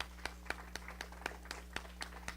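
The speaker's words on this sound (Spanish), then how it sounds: "Dale un aplauso al Señor." A church congregation claps along in quick, even rhythm, sharp claps landing about four times a second, faint and distant over a steady electrical hum.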